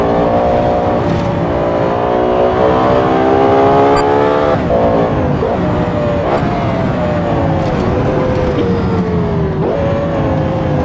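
A Lexus LFA engine revs hard and continuously while drifting, loud and close, its tone rising and dipping as the throttle shifts with brief sharp blips along the way.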